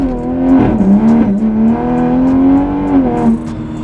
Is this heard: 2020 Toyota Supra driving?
yes